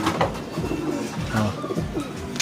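Pigeons coo in a low, repeated rhythm close by during the daytime, with soft background noise and no talking.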